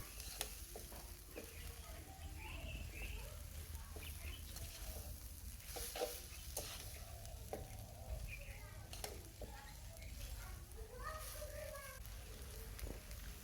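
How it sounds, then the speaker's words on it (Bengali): Vegetable noodles with soy sauce and tomato ketchup are stirred in a sizzling pan, with repeated scraping strokes of a utensil over a steady frying hiss and faint background birdsong. "2 টেবিল চামচ সয়া সস ও 2 টেবিল চামচ টমেটো কেচাপ দিয়ে দিচ্ছি। ভালোভাবে মিশিয়ে নিচ্ছি।"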